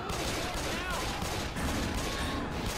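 Dense, sustained gunfire in the co-op zombie shooter Left 4 Dead 2, a loud continuous fusillade of overlapping shots filling the whole stretch with voices mixed in underneath.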